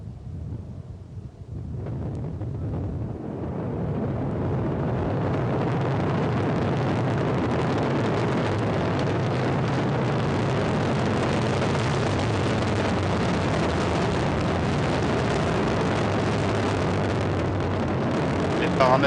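Ariane 5 rocket at ignition and liftoff, a broad rumbling roar building over the first few seconds and then sustained, loud and buffeting, with wind-like noise and deep low-frequency power throughout.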